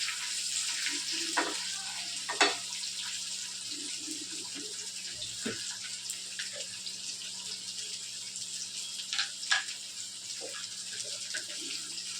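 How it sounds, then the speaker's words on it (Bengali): Pointed gourd stir-fries in a pan, producing a steady, fairly quiet hiss of hot oil with a few faint clinks and stirring scrapes scattered through it. "পটলটা দিয়ে একটু নাড়াচাড়া করার পরে ঝিঙে আর পেঁয়াজটা দিয়ে দেবো"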